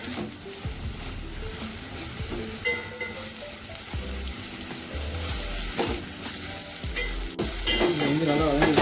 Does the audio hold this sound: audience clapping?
no